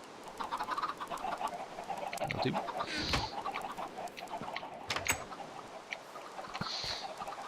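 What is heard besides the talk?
chickens clucking in a video game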